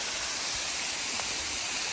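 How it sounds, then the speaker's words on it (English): Rainforest creek water rushes near a waterfall in a steady, broad, even hiss, close and continuous, with no voices. "Beautiful creek, and we've got to go that way."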